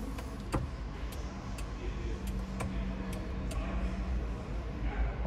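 The electric passenger seat of a Range Rover Evoque P250 SE R-Dynamic Flex lowers with a faint, steady motor hum over low cabin rumble and light ticking clicks.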